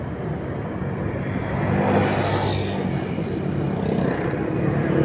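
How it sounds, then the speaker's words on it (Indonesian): Steady, dense traffic hum and engine rumble from many cars on a congested road near Geurugok, Bireun, Aceh, continuous and fairly loud with vehicles passing close by and no voices. "Banyak sekali mobil"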